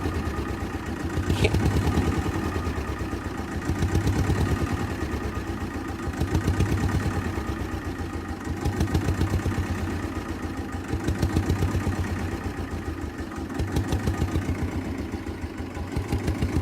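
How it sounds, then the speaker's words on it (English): A Fiat 221 orchard and vineyard tractor idles roughly while still cold. The diesel-style engine chugs close and steady, and its level surges and dips in a slow, regular pulse every couple of seconds. "I'm hoping when it warms up, it'll idle a little better."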